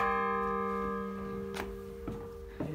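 The old bell in the tower of Thisted church in Denmark rings out with a long, humming resonant tone that slowly fades, close by, with a few soft knocks and small thuds near the end and no talking.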